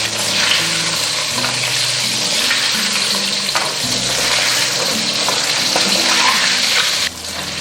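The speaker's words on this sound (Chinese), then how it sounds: "我们分2锅炸，放下去这1分钟，我们不要去动它避免脱浆了" Batter-coated Bombay duck fish fry over medium heat in a wok of oil, a loud, continuous sizzle and crackle that stays steady throughout with no talking.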